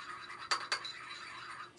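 Olive oil skincare mixture being stirred in a bowl for a DIY summer treatment: quiet, soft scraping clicks, with two sharper taps of the utensil against the bowl midway and one more right at the end.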